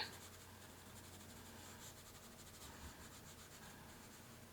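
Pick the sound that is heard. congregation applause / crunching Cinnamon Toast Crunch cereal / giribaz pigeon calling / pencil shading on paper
pencil shading on paper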